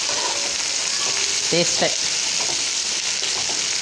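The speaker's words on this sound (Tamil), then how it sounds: "இது நல்லா செவக்க பொரியணும்" Onions frying in a pan for ghee rice in a Malabar-style lunch, a steady loud sizzle running throughout with a brief spoken word over it.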